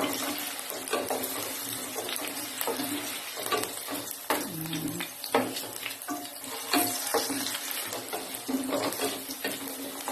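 Bell pepper frying in oil in a pan for caldereta, a soft continuous sizzle with stirring scrapes and a few utensil clinks, fairly faint and without speech.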